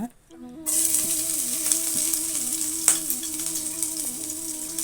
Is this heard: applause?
no